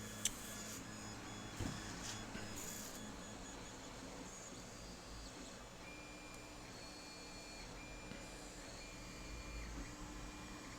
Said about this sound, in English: Printer noises will hopefully not be too irritating